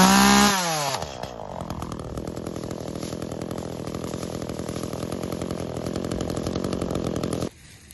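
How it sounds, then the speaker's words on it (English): A chainsaw cutting down trees in a backyard for firewood revs up sharply, then holds a loud, steady, buzzing drone for several seconds before cutting off abruptly near the end. "She's handling that chainsaw like a pro."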